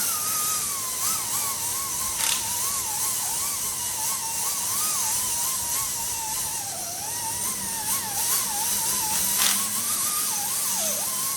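An impact wrench with a chrome socket removing oil pan bolts gives a continuous, wavering high-pitched mechanical whine that holds steady for several seconds at close range, with no talking.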